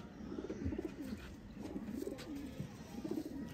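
Pigeons coo in soft, repeated low bubbling phrases, close by and steady throughout with no talk, amid a faint background hiss; the birds are Sialkoti teddy pigeons kept by a breeder.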